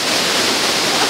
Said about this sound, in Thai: เป็นน้ำตกที่ใหญ่จะเป็นละออง